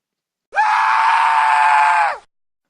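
A single loud, sustained scream lasting nearly two seconds, starting abruptly and cutting off, with silence before and after.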